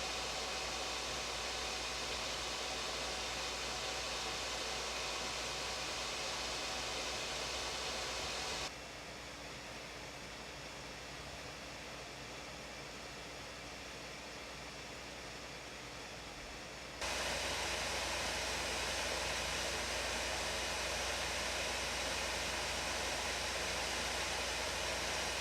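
Steady broadband whoosh of laptop cooling fans under peak load, a Hansung 5450UC, a Slim5 and an Aspire5 heard in turn with a pin microphone held close, the middle unit noticeably quieter than the other two.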